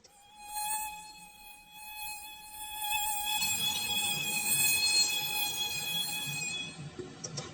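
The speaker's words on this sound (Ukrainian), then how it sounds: "Так, це комарик." A high, whining mosquito buzz hums continuously, sharp and nasal, shifting slightly in pitch as it hovers close by.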